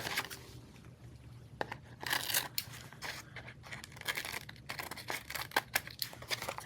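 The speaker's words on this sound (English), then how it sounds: "Where'd my scissors go? All right, so I'm going to trim it." Scissors snip and trim a paper craft tag on a desk, giving a quick run of sharp, close cutting and crinkling sounds with uneven spacing.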